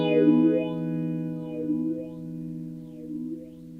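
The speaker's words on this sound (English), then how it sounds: "That's like a phaser sound right there on my effects pedal." Electric guitar played through a phaser effects pedal, sustained distorted chords with a slow sweeping, swirling tone, moderately loud and alone with no talking.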